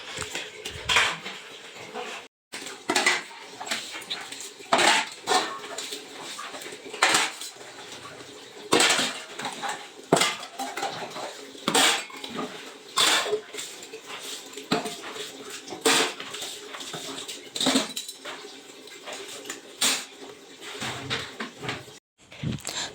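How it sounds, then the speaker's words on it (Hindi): Dishes, pots and utensils washed by hand in a home kitchen: steady clinks and clatters of metal cookware and cutlery knocking together, close and fairly loud throughout, with occasional water splashes and a dog whimpering faintly at times. "तो चलिए बर्तन भी धो लेते हैं जल्दी जल्दी।"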